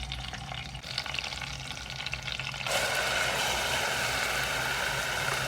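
Onion paste, green chillies, coriander seeds, cumin and garlic paste frying in a pan, giving a soft sizzle that jumps to a louder, steady hiss partway through and stays even to the end.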